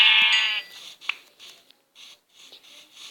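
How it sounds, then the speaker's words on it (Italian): A sheep in a video game village gives one clear, close bleat, then a few faint, scattered small sounds follow in near silence. "Delle pecore e là in fondo vedo degli aveti."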